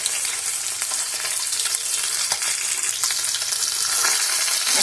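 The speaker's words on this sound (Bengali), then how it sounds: "এবার আমি মাছগুলো ভেজে নেব।" Fish pieces frying in oil in a kadai, a steady close sizzle with crackling pops and spits running throughout, no voices.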